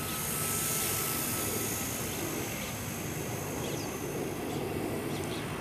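A small MCPx radio-controlled helicopter hovers nose-in outdoors with a steady, continuous rotor whine and buzz that stays even throughout.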